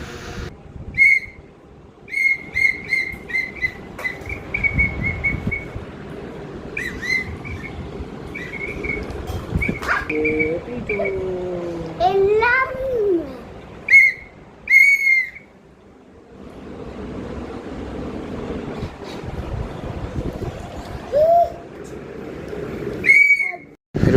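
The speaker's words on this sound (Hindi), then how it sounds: "फिर ये उमर भाई साहब अपना सीटी से खेले थे," A child blows a toy whistle indoors, producing many short, shrill chirping blasts in quick bursts, with a few sliding, wavering tones mixed in over background household noise.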